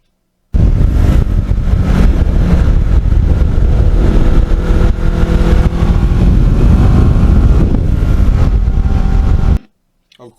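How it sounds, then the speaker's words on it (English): A black Kawasaki Ninja fitted with handmade carbon fiber parts roars loudly and steadily as it rides through the gears, a dense mechanical engine drone lasting about nine seconds before cutting off abruptly. "from the cockpit, when you go through the gears, the sound is just beautiful. It's a very mechanical sound"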